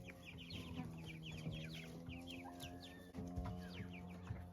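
Young chicks in a backyard chicken coop, a steady chorus of soft clucks and high cheeping calls, faint and close, with a low background hum throughout.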